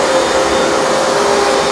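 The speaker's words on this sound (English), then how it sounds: "Not hard to push the carpet cleaner this way." A Hoover Dual Power Max carpet cleaner running over a filthy carpet, a loud, steady motor whine and airflow roar close by with a constant tone throughout and no voices.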